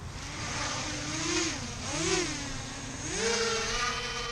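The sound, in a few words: drone motors spinning up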